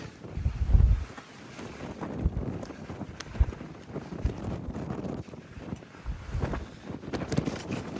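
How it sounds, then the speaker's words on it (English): Strong gusting wind buffets the microphone with low rumbling bursts, steady and close, with no voices heard. "it's that windy"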